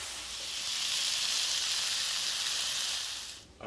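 Onions frying in about two tablespoons of butter in a pan, a loud, even hiss of sizzling that holds steady for several seconds before dropping away at the end.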